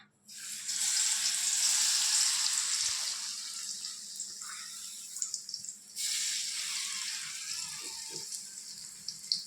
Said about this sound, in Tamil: எண்ணெய் கையில் தெரிக்காத மாதிரி மெதுவாக போடணும்.